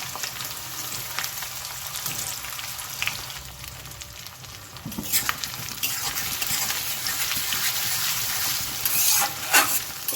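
Raw onions and green chillies frying in a pan for a duck curry, a close, steady sizzle with spatula scrapes that grows louder and busier toward the end, with no speech.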